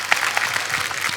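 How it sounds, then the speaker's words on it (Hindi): Studio audience applause on a comedy talk show honoring the cast of the Mahabharat series, a short burst of clapping with some distinct individual claps, fairly close and lively. "उसके लिए जोरदार तालियां बनती हैं।"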